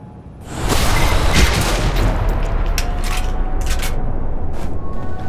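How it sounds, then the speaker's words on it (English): Sustained gunfire in the spy-shooter game Alpha Protocol, a dense, loud wash of shots and booms running without pause after a short quiet start. "I think we want to double shoot him."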